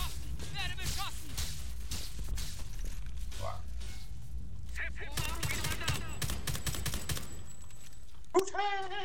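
Gunfire from the video game Homefront: The Revolution crackles in quick bursts and scattered single shots, fairly faint, mixed under someone talking in German and game sounds.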